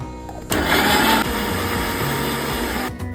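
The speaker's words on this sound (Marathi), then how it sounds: "आता हे मिक्सरला वाटून घेऊया." A kitchen mixer grinder whirs loudly as it grinds grated coconut with green chillies, garlic cloves and a little water for Konkani solkadhi, a steady motor roar starting abruptly and cutting off near the end.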